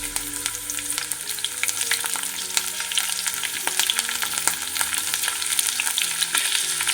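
Two green chilies added to hot oil fry with a steady, dense sizzle and crackle that runs unbroken throughout, with occasional louder pops and spatters and no voices.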